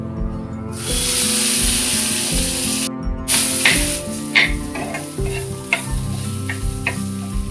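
Asafoetida and a ground spice masala hit hot oil with a loud, steady hiss and crackle, a short break, then more sizzling with scattered pops and the clink of stirring, sounding close with no talking.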